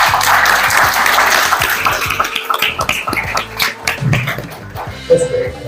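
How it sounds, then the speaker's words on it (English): An audience at a Gavel Club graduation ceremony claps for the office bearers, a dense sustained applause with a few sharper claps and some voices mixed in. "So a huge round of applause for us."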